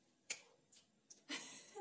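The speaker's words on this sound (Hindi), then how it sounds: "चुटकी किसने पहले बजाई थी?" A sharp, brief finger snap rings out near the start, followed by a few softer clicks and some faint background noise in a casual Punjabi quiz setting among friends.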